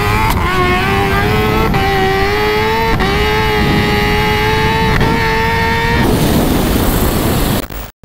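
A Kawasaki Ninja H2 launching at a drag race at Speed Junkie in Itatiba, São Paulo: a loud, close, high-revving engine climbing through several rapid gear changes, then a harsher roar as it pulls away.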